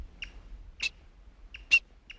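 A female black-backed woodpecker calls near its nest: a few short, sharp notes spaced irregularly, faint against quiet forest background.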